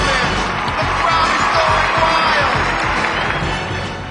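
A stadium crowd roars and cheers wildly at a high-jump world record, a loud, dense, sustained wall of noise with scattered shouts and claps throughout.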